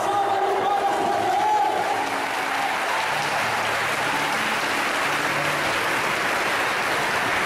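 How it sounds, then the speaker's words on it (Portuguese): A Pentecost charismatic church congregation in Cuiabá applauds loudly and steadily, a dense wash of clapping mixed with crowd cheering and voices, sustained at full strength throughout. "Dá uma salva de palmas para Deus."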